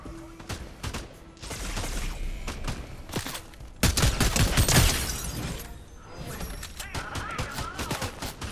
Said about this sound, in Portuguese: Eu não sei no que esses bots estão atirando.